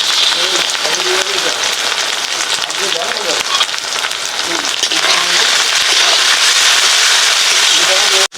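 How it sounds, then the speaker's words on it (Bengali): Ginger and dried chili paste frying in a pan for a country chicken curry, giving a loud, dense, continuous hissing sizzle close up, with a voice speaking over it. "আদাটাকেও একটু ভাজা নিয়ে হবে"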